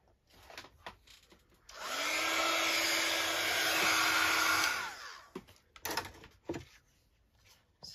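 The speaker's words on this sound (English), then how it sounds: "I'm gonna just get my heat tool out and give that a bit of a dry." A heat tool blows over tea-dyed 6x6 craft paper to dry it, a steady close whirring rush that switches on, runs for about three seconds and cuts off, with quiet handling noises before and after and no talk.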